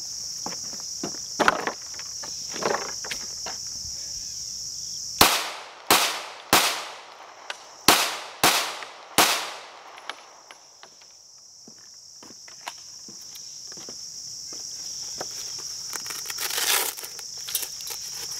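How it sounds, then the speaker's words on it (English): A Glock 19 fires Critical Duty rounds into Level IV body armor outdoors: about seven sharp, loud shots in a quick, uneven burst, with crickets chirping steadily before and after. "Gonna hit it now with Glock 19 critical duties, see what it does."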